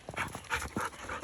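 Dogs out on a trail pant and whimper in short close bursts, several quick breathy sounds in a row.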